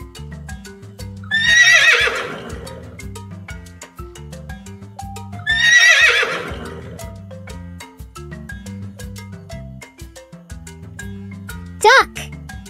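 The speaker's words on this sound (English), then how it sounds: "Horse." A horse neighs twice in loud, shrill whinnies over a soft backing tune, with a brief high bright sound near the end.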